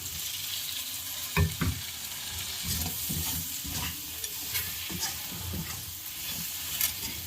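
Fried prawns tossed into sizzling masala with ground pepper in a pan, a steady quiet frying hiss punctuated by irregular scrapes and clinks of stirring, close by with no talking.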